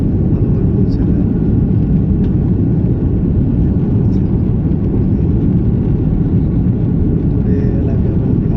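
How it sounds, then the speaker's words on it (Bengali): A passenger airliner begins its takeoff roll on the runway, heard from inside the cabin as a loud, steady, broadband engine roar that holds constant throughout. "এখন সম্ভবত ফাইনালি রানওয়ে স্টার্ট করলো"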